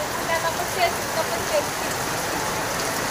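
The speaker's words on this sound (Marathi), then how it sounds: "तर बघा गावी आले एवढा पाऊस पडतो," Heavy rain pours down in a village as a steady, soft hiss of falling water, while someone speaks briefly over it.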